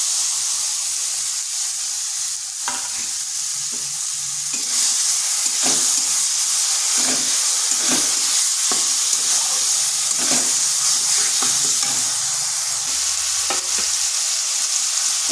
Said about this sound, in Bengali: পেঁয়াজটা হালকা ভাজা হয়ে গেছে। এরপর দিয়ে দিচ্ছি ওই যে সিদ্ধ করে রাখা বেগুনটা।